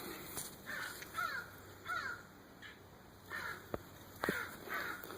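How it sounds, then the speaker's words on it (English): Crows in a summer organic garden, several distinct caws spaced a second or so apart, moderately distant and fairly faint against a quiet outdoor background. "The crows are making the little tree frog talk back here."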